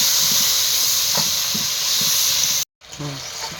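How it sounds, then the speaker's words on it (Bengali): A spice paste of dried red chillies with a splash of water frying in a pan hisses loudly and steadily, with faint scrapes underneath and a brief silent break near the end before the sizzle resumes. "মশলাটা ভেজে নেব"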